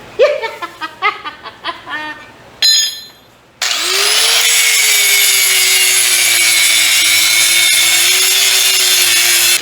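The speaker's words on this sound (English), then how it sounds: "I'm gonna grind and clean that rust off firstly." Rust is being ground off homemade trailer steel. A few light taps and scrapes come first, then a loud, steady grinding whine with a motor hum runs without a break to the end.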